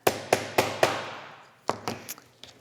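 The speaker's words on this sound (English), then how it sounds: "then you're just going to set it with a small hammer" A small hammer strikes a metal grommet-setting tool through fabric in sharp taps. Four evenly spaced hits come first, then a pause, then a quicker run of lighter taps. The sound is close and dry, with no voices.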